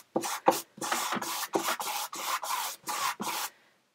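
A brush strokes primer across a canvas in quick back-and-forth swipes, about nine close, dry rubbing strokes separated by brief gaps.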